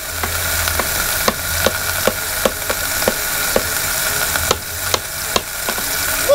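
Roast beef browns in a Cuisinart pressure cooker, with a loud, steady sizzle punctuated by sharp, regular clicks and knocks from the pot, close up.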